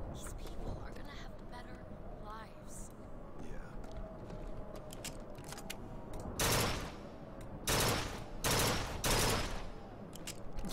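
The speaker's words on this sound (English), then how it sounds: "So that's a burst gun." Bursts of automatic fire from a burst gun in Bioshock Infinite, several loud clustered volleys in the second half, over busy game ambience and a talking voice.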